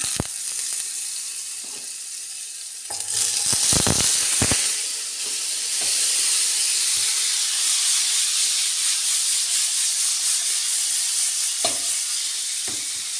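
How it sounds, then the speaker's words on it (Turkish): Food sizzles and spits in hot oil, a steady bright hiss with occasional stirring clatter, close and continuous. "yüksek ateşte kızartacağız arkadaşlar yoksa kızarmıyor."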